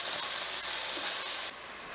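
Scallops sear in a hot pan with a bright, steady, close hiss and sizzle that drops slightly in level partway through and then continues evenly.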